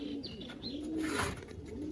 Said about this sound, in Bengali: সবগুলো কবুতর আমি একসাথে ছেড়ে দেখাই